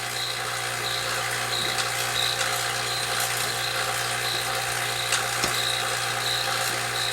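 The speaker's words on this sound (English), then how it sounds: "we've run the vacuum pump for about another 15 minutes" Vacuum pump hooked up for an R134a air-conditioning recharge on a 2005 Town & Country drones steadily and loudly, with a constant mechanical hum and faint rhythmic ticking throughout, no voices.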